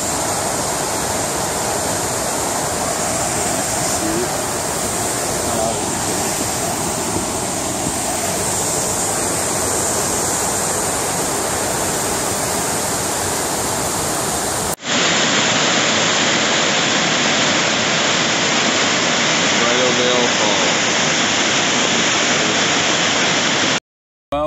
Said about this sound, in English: It appears we have made it to the Bridal Veil waterfall.